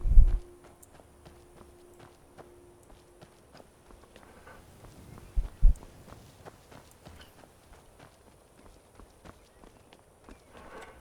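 A goat moving about in Skyrim, soft irregular hoof steps on the ground with a couple of louder thuds, fairly quiet against a faint ambient game background.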